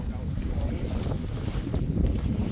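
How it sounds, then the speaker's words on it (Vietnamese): Strong wind gusting at a semi-natural fishing pond, a steady loud rushing roar with buffeting against the microphone. "Gió lên hết rồi."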